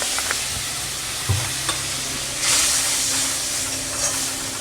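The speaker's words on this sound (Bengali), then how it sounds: "এই মশলাটা একটু ভালো করে কষা হয়," Bengali masala spice paste frying in a pan for a rohu fish curry with bitter gourd and potatoes, a steady close sizzle with scraping stirs and a brief louder hiss of steam partway through.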